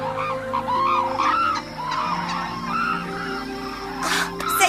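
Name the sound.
birds calling in an animated cartoon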